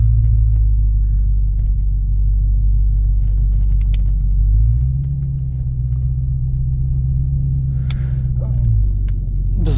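Cars on a road produce a loud, continuous low engine rumble that shifts in pitch about halfway through, close by, with no talking.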